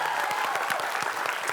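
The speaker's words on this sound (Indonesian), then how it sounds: "Hebat, tepuk tangan dong." Studio audience at a crossword quiz show clapping together in a dense, steady burst of applause, close and loud, brief and without pauses, no voices standing out above it.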